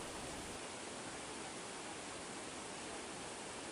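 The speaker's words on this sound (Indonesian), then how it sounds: "air terjun." A tourist waterfall roars as a steady, dense wash of broadband water noise, constant and unbroken throughout with no voices.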